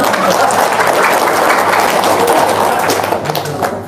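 A crowd claps steadily for a few seconds, dense applause that fills the room before starting to taper off.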